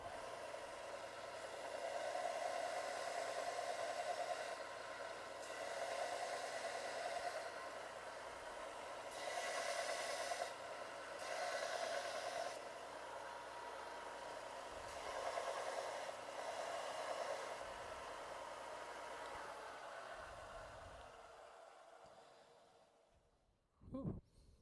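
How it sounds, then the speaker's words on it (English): A woodturning tool pressed against a grinding wheel, a steady whirring grind rising in repeated passes of a few seconds each, fairly close, then the wheel spinning down near the end. "Let me sharpen this baby up again."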